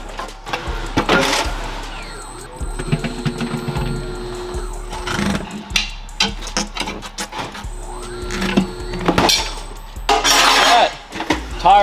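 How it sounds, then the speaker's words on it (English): A tire being mounted onto a car wheel on a tire machine in a shop gives off clanks, clicks and mechanical whirring in irregular bursts, with brief metallic strikes between quieter gaps. "First, before we mount it, we got to throw on the tire lube, just so it slides onto the wheel a lot easier."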